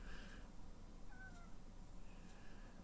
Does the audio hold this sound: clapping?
no